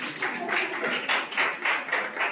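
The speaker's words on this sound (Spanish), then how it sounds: "Vamos a dar un aplauso al compañero que está trabajando" Classroom applause for a student who is working, a short burst of steady clapping from a group of classmates, fairly close and moderately loud throughout.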